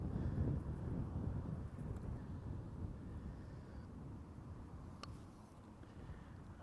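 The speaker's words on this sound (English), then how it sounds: "The wind's actually strong enough." Strong wind blowing across a golf course, a broad rumbling rush buffeting the microphone, loudest at first and easing slightly, with no talk.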